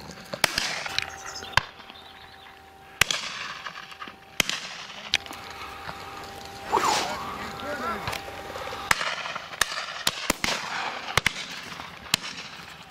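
Shotgun shots during a pheasant and partridge shoot, sharp reports spread irregularly at varying distances, some close and loud, some fainter, with people talking outdoors between shots.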